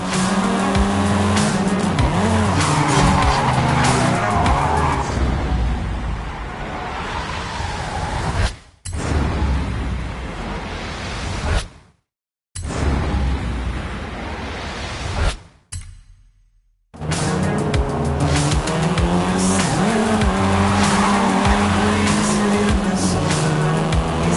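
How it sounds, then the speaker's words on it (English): A Volkswagen Golf R in the racing game Forza Horizon 5 roars loudly at high revs, its engine note shifting through gear changes with tire squeal and skidding, broken by a few brief silent gaps. "This version is the Volkswagen Golf R, R meaning race."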